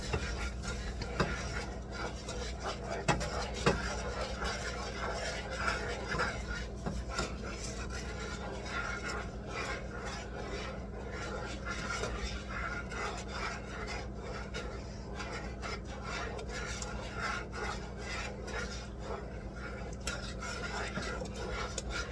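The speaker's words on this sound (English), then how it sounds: "we're going to stir this constantly until it comes to a boil" A butter and sugar toffee mixture is stirred constantly in a pot, producing a continuous rasping, scraping rub of the spoon against the pot bottom, close and steady with small knocks throughout.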